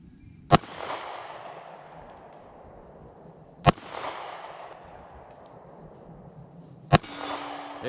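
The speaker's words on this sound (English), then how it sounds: "we'll see if I can shoot the little Glock" Three sharp, loud gunshots from a small Glock pistol fire about three seconds apart, each with a short ringing echo, and nobody speaks.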